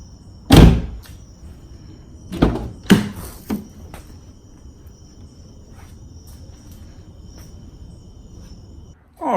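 A Porsche car door is worked in a quiet setting, giving a loud latch clunk, then two more sharp clicks and thumps a couple of seconds later, with insect chirping faint in the background and a final thud at the end.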